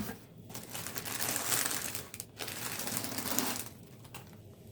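Paper packing crinkles and rustles while a subscription book box is unboxed, in two bursts of close, fairly quiet crumpling separated by a short pause.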